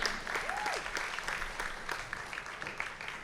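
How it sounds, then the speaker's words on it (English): Conference audience applauding a keynote speaker at a payments and startups event, continuous even clapping throughout with a brief voice or tone rising through the crowd noise early on. "A big round of applause, guys, for Corrado."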